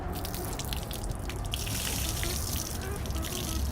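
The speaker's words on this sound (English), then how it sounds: "wring it out on the ground." Water wrung out of a car wash mitt splashes steadily onto the ground outdoors, a dense continuous wet gush and patter lasting the whole moment without pause.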